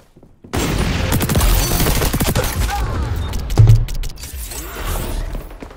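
Rapid automatic gunfire from the video game XDefiant crackles in long sustained bursts, loud and close, with a heavy thump midway and weapon mechanism clatter as the shooting trails off.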